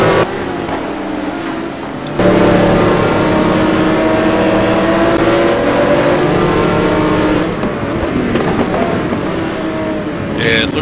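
GT1 race cars in a sim race at Mugello, including a Koenigsegg, roar continuously with engines revving and shifting as they run close together. The engine noise stays loud and steady, with a commentator talking over it.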